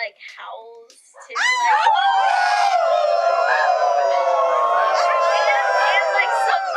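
A crowd of people imitates dog-like howls together, a dense chorus of overlapping wavering yips and wails that swells loudly and holds, after a few quieter voices at the start.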